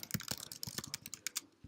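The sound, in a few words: typing on a computer keyboard in Jupyter notebook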